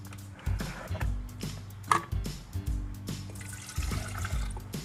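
Water splashes and gurgles into an electric kettle in uneven pulses, close by, with small knocks and clatter in between.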